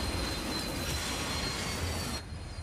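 A passing train grinds along the rails with loud, steady high-pitched wheel squeal over a rumbling roar that fades slightly near the end.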